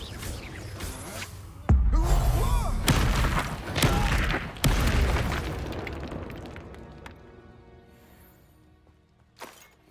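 A loud booming spell blast from the Hogwarts Legacy video game, with several heavy explosive bursts in the first five seconds that roll off into a fading rumble, ending with one small late pop.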